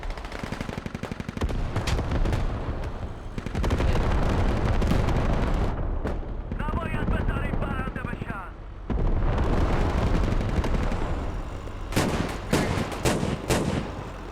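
Artillery fire in the military video game Squad: heavy, continuous booming and rumbling blasts with crackling gunfire, loud and sustained almost throughout, briefly thinning midway. A voice talks over part of it.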